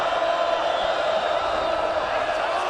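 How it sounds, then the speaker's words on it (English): A college football stadium crowd at Georgia Southern at Appalachian State roars as a steady, dense wall of cheering that holds at full volume throughout, loud and distant-sounding, with no distinct single voices. "Here comes the crowd."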